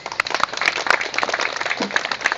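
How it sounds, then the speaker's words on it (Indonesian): At an installation ceremony at a junior high school, the audience claps for the newly installed OSIS student council, a dense spatter of clapping that is fairly loud and close and continues throughout. "tepuk tangan untuk pengurus OSIS"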